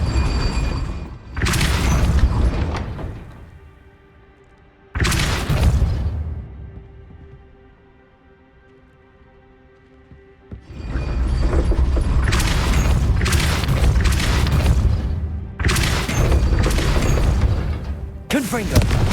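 A Depulso force spell is cast in the video game Hogwarts Legacy, landing as heavy booming blasts in loud, close bursts separated by a quieter rumbling stretch.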